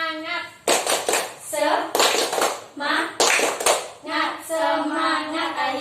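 Schoolchildren in an Indonesian classroom perform a rhythmic spirit clap, sharp bursts of clapping in three quick rounds, with children's voices chanting in unison between them.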